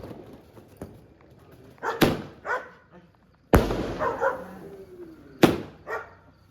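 Several sharp dog barks ring out at intervals, loud and near, during Diwali, with a voice speaking briefly between them.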